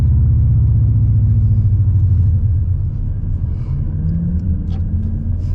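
A swapped Subaru Impreza GC8 with a 2.5RS engine accelerating at part throttle, a loud, steady low engine drone and rumble that holds throughout, easing slightly toward the end with no talk.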